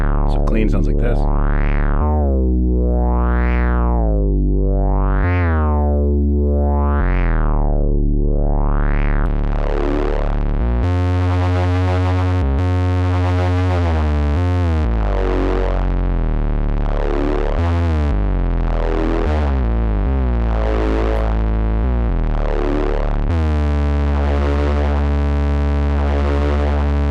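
A 1981 Inventions DRV effect processes a Roland TR-606 drum machine and a Moog synth, beginning with loud repeated sweeping tones and moving into a dense, buzzing, distorted pattern of synth notes and drum hits that runs without a break.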